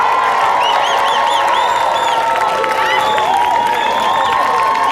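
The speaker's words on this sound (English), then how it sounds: "Family members, at this time, take a few moments to applaud in acknowledgement of your child's achievement" Families at a 2021 graduation ceremony applaud and cheer loudly, steady clapping mixed with whoops and high-pitched shouts in a continuous crowd wash.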